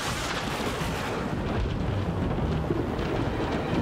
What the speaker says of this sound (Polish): Piorun właśnie uderzył w drzewo.